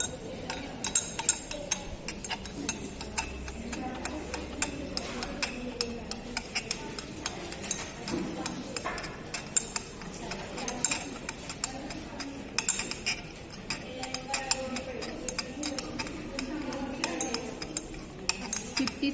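A glass rod or spoon stirs a hot potassium trioxalato ferrate filtrate in a glass vessel while ethanol is slowly added, making light, irregular clinks and ticks that continue steadily over a low background.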